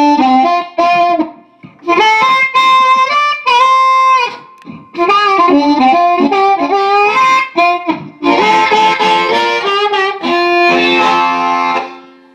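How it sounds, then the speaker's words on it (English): Electric guitar through a Fender Mustang set to a Bassman amp patch with 1963-style spring reverb, playing loud, close bluesy phrases with short pauses, building to denser strummed chords near the end. "I can switch from this sound to a Bassman with a 63 spring reverb."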